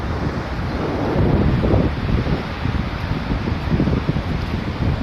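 Strong sea wind on Kuakata beach buffets the microphone in uneven gusts, with the wash of surf rumbling beneath; no one speaks.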